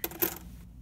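A few coins clink and drop while pocket change, mostly copper pennies, is sorted, two close metallic strikes early, then a faint rattle fading out.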